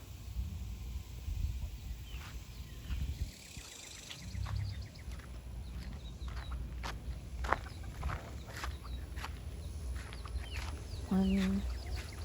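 Backyard chickens, leghorns among them, cluck softly around a coop, with scattered short calls, light steps and rustling in the background and a brief higher call near the end.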